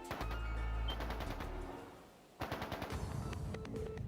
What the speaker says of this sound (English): That sound! Gunfire from deeper in.